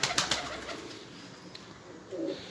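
A pigeon coos softly against a faint outdoor hum, with a few light flutters and taps early on.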